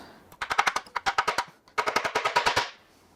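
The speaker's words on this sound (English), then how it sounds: "you just need to give it a boop with a hammer" A hammer raps rapidly on a part of a BMW N63 engine, two loud, close bursts of about ten sharp metallic taps each, separated by a brief pause.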